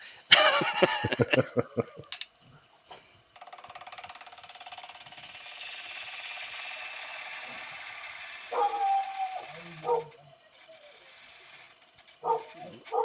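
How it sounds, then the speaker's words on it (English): A dog barks outside in the garden, a quick run of sharp, fairly loud barks at the start, followed by a long stretch of steady mechanical hum and a few faint clicks. "Dog's barking."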